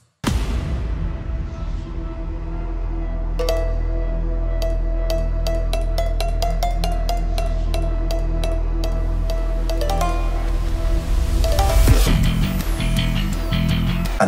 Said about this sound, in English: when you hear them together and you bring in the shamisen, it sounds like this